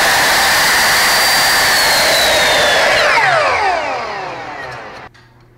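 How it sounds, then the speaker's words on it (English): A power saw cuts a length of wooden lath to size with a loud, close, continuous whine that holds steady, then sags and winds down to a stop. "take your lath, cut it down to the size"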